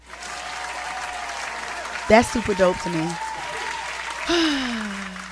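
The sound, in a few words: applause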